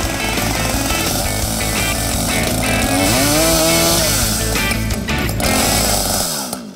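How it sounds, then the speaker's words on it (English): A loud chainsaw engine roars steadily, its pitch rising and falling as it bites into wood, running continuously before cutting off at the end. "I've never used a chainsaw"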